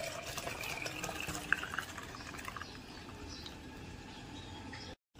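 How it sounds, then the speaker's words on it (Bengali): Milk poured into a container while homemade sour yogurt is being made, giving a faint, steady liquid rush that runs almost unbroken before cutting off near the end. "এবার এই দুধটা আমি এর মধ্যে ঢেলে দিলাম"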